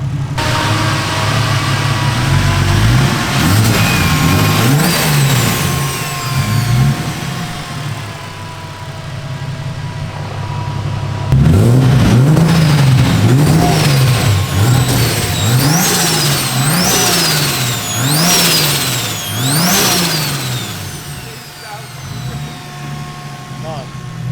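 A turbocharged BMW E36 engine, running hot, revs repeatedly, pitch rising and falling in rhythmic waves, loud and close, with a pause before another series of revs.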